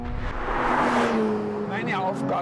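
A 2025 Porsche 911 GT3 with Touring Package driving on country roads, its engine note sweeping up and down in pitch as it accelerates and passes close by.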